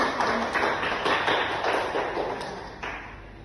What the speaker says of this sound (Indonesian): Mari kita berikan aplaus dulu.